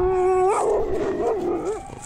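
A reactive dog howls and whines, with a sustained tonal howl that breaks into wavering yips and whimpers, close and loud, with no talk over it.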